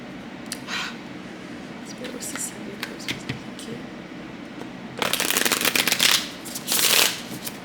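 A Dragon's Tarot card deck is shuffled close up in soft riffling bursts, quiet at first and then louder and denser near the end, with a voice talking at times.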